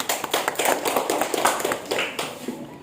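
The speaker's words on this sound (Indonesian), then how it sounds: "Ayo tepuk tangan untuk kelompok 4." A school class claps for a student group, a quick, uneven patter of close hand claps from several people lasting a few seconds.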